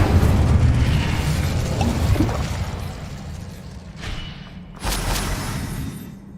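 Spell effects from the Hogwarts Legacy video game, including the Incendio fire spell, burst out as loud booming whooshes, followed by a quieter swell and a sharp, bright blast near the end.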